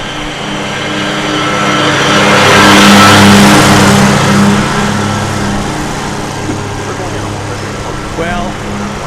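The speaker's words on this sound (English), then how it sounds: "that's the sound of a John Deere" A John Deere tractor engine revving near an airport runway, a loud steady mechanical roar that swells in the middle and eases off, heard close with broadband rumble.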